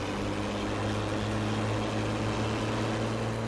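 A tractor engine in Farming Simulator 17 drones steadily at close range, a loud continuous low hum with no change in pace and no voices over it.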